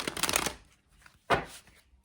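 A deck of tarot cards is shuffled in two quick riffling bursts, one longer and one shorter, close and fairly quiet with a short pause between them.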